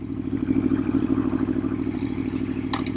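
Aprilia Tuono motorcycle slowing to a stop, its engine settling into a steady, loud, throbbing low idle close by, with a faint clink near the end.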